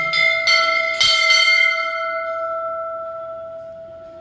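A metal temple bell at Ongari Dham sun temple in Nalanda, Bihar, is struck about four times in quick succession, loud and close, then its bright ringing tone hangs and slowly decays.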